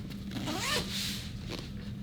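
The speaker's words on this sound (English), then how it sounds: "zip this, and then come around and do the compression" A YETI Crossroads packing cube being zipped closed, one long close rasping zipper pull, then a shorter second tug, with no talking.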